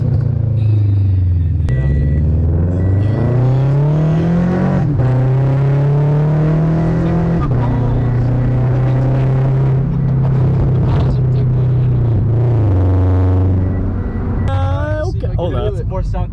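Catless Scion FR-S exhaust with a pop tune revving up and down, a loud deep drone rising and falling through several long pulls, with crackles near the end.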